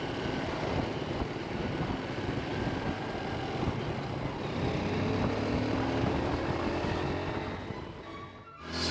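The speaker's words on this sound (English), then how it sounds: "I'm not sure if you can hear me through the sound of the engine" A Honda XR 150 motorcycle engine labours up a very steep hill, a continuous loud droning roar with rising pitch as the revs climb, mixed with wind noise, before the sound drops away near the end.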